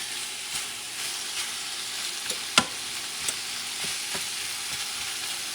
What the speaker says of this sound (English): I'm going to let this meat cook a little bit